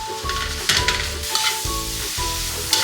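Ground pork sizzling loudly in a hot wok while a utensil repeatedly scrapes and breaks it apart, giving rhythmic clanks and steady frying noise up close, with no talking.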